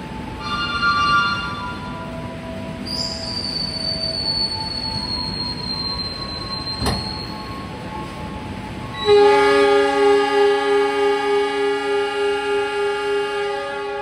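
Mutiara Selatan train pulling out of Solo Balapan station, heard from inside with a steady rumble, a high squeal, and a sharp click, then a loud tonal horn or chime that pulses near the end.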